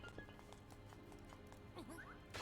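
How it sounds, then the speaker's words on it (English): Horses in the video game Zelda: Link's Awakening clip-clop in a quick rhythm, then one gives a high, wavering whinny near the end, fairly quiet under a steady background hum. "Why are there horsies?"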